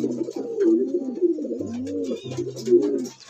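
A pet pigeon or dove coos close by in a soft, repeated series of low rounded calls with brief pauses, heard alone without talk.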